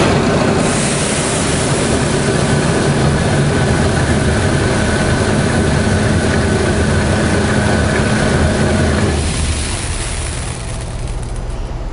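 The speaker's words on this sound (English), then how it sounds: "So now when we turn the calibration motor on, we're going to charge that product." A Bourgault 6000 series air seeder's calibration motor running to charge the metering auger, a steady loud mechanical drone and rumble that drops slightly in level near the end, with no talking.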